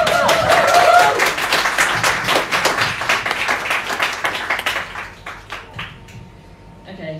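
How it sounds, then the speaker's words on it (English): A pub church crowd claps for a nervous woman about to share her baptism story, a brisk burst of many hands that thins into scattered claps and fades out over several seconds. "Maybe get her a clap"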